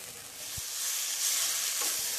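Spice paste sizzling loudly in a pan after a splash of water, a dense close hiss that swells and stays steady, with a couple of soft low knocks from stirring.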